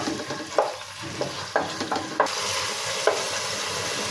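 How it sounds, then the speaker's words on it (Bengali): Chicken marinated with salt, tomato sauce, soy sauce and chilli powder lightly frying in a pan, a constant sizzle punctuated by a few sharp stirring scrapes, close and without speech. "চিকেনটা হালকা ভেজে নেব"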